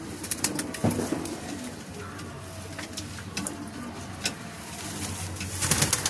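Pigeons give low, rolling coos close by, a repeated throaty murmur, with a few sharp clicks and some background rumble from a nearby engine.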